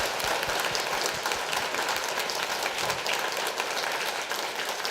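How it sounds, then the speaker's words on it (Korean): Sustained applause from a church congregation at a Korean Presbyterian Sunday service in Detroit, dense and steady throughout, with no talking. "힘차게 우리 축복의 박수를 해주시겠습니다."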